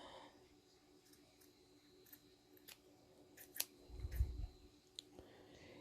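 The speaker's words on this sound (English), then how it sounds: "I've cut too many pieces of paper with these scissors" Quiet snipping of scissors through paper, several short crisp cuts scattered across the moment with a soft rustle in between.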